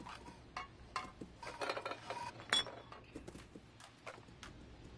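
Glass bottles get knocked over in a cat video game, giving a cluster of sharp clinks and clatters that build and then scatter, fairly faint against a quiet background.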